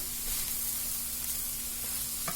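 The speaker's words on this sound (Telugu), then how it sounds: "ఈ రెసిపీకి మనము ఆనియన్స్ చాలా బాగా ఫ్రై చేసుకోవాలండి, బ్రౌన్ కలర్ వచ్చేంత వరకు ఫ్రై చేసుకోవాలి." Onions frying in a pan until browned, with a steady, even sizzle that holds at a constant low level from start to finish and has no voices over it.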